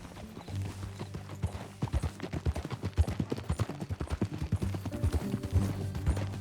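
Horse hooves clip-clop steadily at a riding pace in the Red Dead Redemption 2 video game, a continuous rhythmic stream of close hoofbeats with a low rumble beneath.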